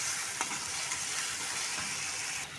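Grated tomato fries in a pan with garlic paste, giving a soft, even sizzle with light stirring and scraping, fairly faint and close.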